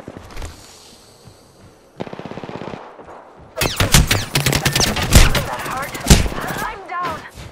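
Video game gunfire aimed at the player: a fast mechanical burst of automatic fire, then dense, loud rapid shooting with sharp cracks and whizzing sweeps, continuing to the end.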